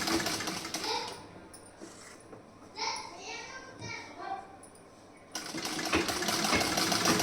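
A sewing machine stitches a sleeve and shoulder seam, its rapid whirring running at the start and again toward the end, while someone speaks in between.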